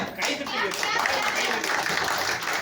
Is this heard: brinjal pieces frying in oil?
no